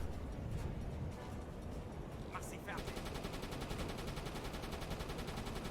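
In the submarine game UBOAT, a deck machine gun fires at a strafing aircraft. A dense, rapid rattle of shots runs over a loud rumble of wind and sea, with a brief whistle-like burst partway through.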